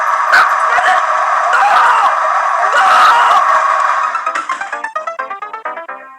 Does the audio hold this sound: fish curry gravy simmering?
no